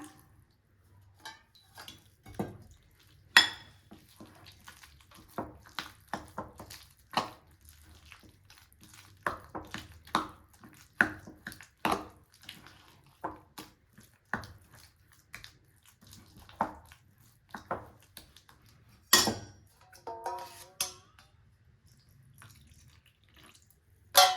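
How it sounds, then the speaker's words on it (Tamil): Sugar syrup is poured bit by bit into wheat flour batter for sweet paniyaram and stirred in a bowl, making quiet, irregular wet clicks and spoon taps spread across the whole stretch, with no talking. "இந்த சர்க்கரை பாவை கொஞ்சம் கொஞ்சமாக ஊற்றி நல்லா கலந்து விடலாங்க"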